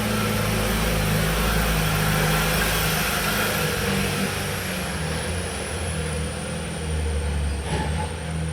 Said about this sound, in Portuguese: Era o barulho do carro.